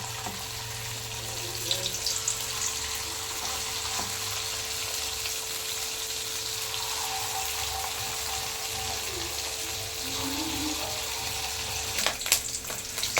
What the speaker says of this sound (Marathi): थोडी मिरची तळून घेते